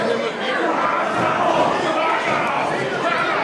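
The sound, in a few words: wrestling crowd cheering and shouting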